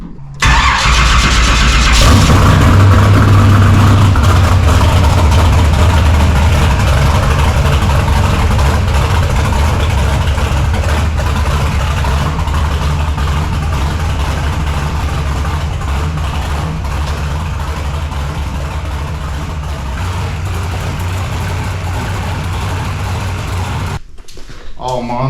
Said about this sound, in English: Motor made 900 on Henson's dyno.